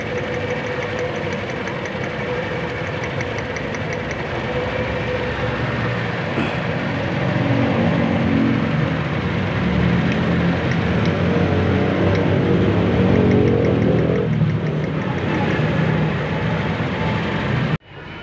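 A Toyota Innova gasoline engine idles roughly with a shaking, uneven knock, loud and close, a continuous steady drone that swells slightly midway and cuts off abruptly at the end.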